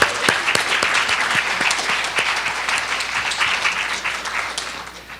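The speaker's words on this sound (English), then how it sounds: "So let's continue the applause." A large audience applauds steadily after a lecture, dense clapping that fills the room throughout and eases slightly toward the end.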